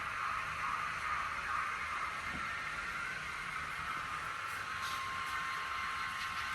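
Two EMD SD70ACE model train locomotives pull a train along track with a faint, steady mechanical whir and hum, plus a thin high whine and soft clicks.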